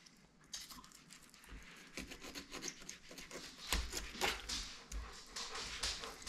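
A knife works through a freshly caught fish being filleted outdoors, giving soft rasping, scraping strokes in an uneven rhythm over quiet background noise.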